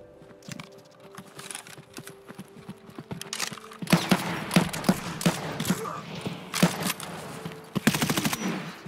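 Gunfire rattles in the video game Escape From Tarkov, coming as rapid automatic bursts with sharp clicks. It starts sparse and grows denser and louder in the second half, though it stays fairly soft overall.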